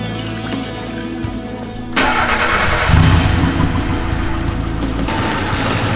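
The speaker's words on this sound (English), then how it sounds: "Besides the lifters, engine's sounding pretty good. Idling happy now" A swapped engine in a Mazda 121 turns over and fires up with a sudden burst of noise, then runs on at a loud, steady idle close by, a faint background hum underneath.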